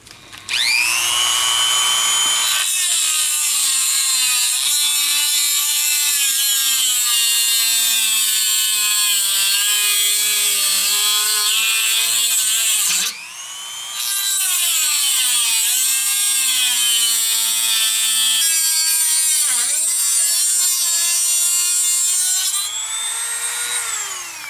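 A power tool cuts a part for a custom halo LED pod headlight, making a loud, continuous high-pitched whine that shifts in pitch as it bites. It dips briefly midway, then runs on alone.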